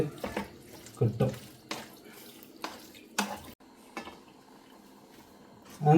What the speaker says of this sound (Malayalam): അങ്ങനെ ഫ്രണ്ട്സ് ഞങ്ങളതിലേക്ക് വെള്ളമൊക്കെ ഒഴിച്ചു.